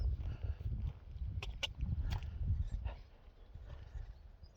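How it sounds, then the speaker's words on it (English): Horses in a field shift about with soft hoof thuds and low movement noises, a few faint knocks and rustles heard outdoors at moderate distance, fairly quiet overall. "One of the horses are in this field, they usually are."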